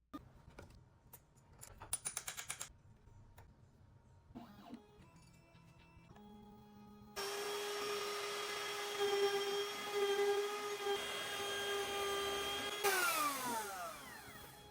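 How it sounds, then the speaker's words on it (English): Shapeoko 4 CNC router carving a V-carve inlay in wood, starting with intermittent clicks and short whirs before a loud, steady high-pitched spindle whine takes over, with pitch shifts near the end. "My CNC is the Shapeoko 4."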